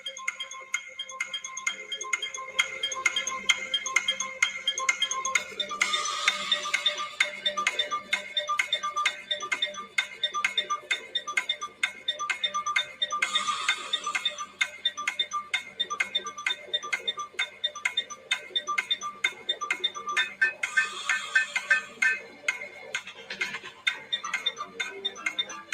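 A 30-second game timer ticks in a steady, rapid rhythm from start to finish, with brighter chime-like bursts layered over it now and then. It is loud and close.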